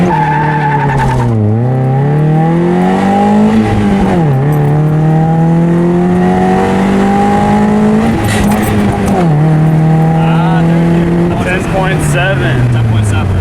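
A car launches hard and accelerates through the gears, the engine note climbing steeply, dropping at each shift, then rising again, loud and close throughout, with a brief tire squeal at the start.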